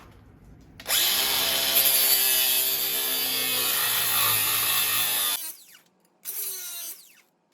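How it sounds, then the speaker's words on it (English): Power tool whirring under a Polaris RZR while a screw is removed, a loud sustained grinding whine for several seconds that cuts off, then a shorter burst after a brief pause. "Now I'm all the way under here with this walkie ratchet."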